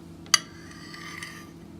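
The back of a spoon spreads light blue cheese dressing across a plate: one sharp clink of metal on the plate, then a faint, soft scraping that fades out.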